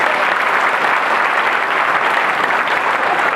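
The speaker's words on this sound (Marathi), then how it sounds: "एकदा आयोजकांसाठी आपण प्रचंड टाळ्या वाजवून त्यांचं अभिनंदन." Dense, steady applause from a large crowd at a packed Buddhist religious gathering, continuous clapping filling the whole stretch without pause or voices on top.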